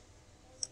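A computer mouse gives one soft, sharp click on a scan button in an otherwise quiet room.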